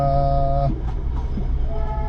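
A Darjeeling Himalayan toy train rumbles heavily nearby on the Siliguri–Darjeeling route, with a steady droning tone that fades partway, leaving a rolling mechanical rush and faint clatter.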